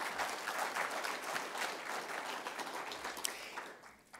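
A summit audience claps steadily for a few seconds, a dense patter of applause that fades slightly toward the end.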